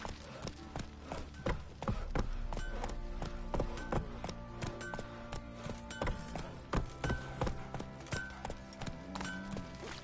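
Roach, a horse in The Witcher video game, clip-clopping at a steady walking rhythm, with hooves sounding close and clear and faint music beneath.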